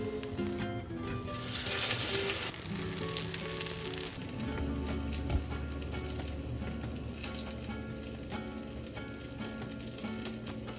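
Beef strips fry in a sauce of fish sauce, soy sauce, sugar and mirin until crispy, giving a steady loud sizzle with a brief louder hiss in the first seconds and a low hum underneath throughout.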